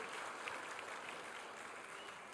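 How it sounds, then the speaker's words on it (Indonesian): Lively audience applause at a staged debate event, a dense, continuous wash of clapping heard faintly from a distance, steady throughout with no clear voices on top. "Kemudian tepuk tangan yang meriah dong, yang meriah ya."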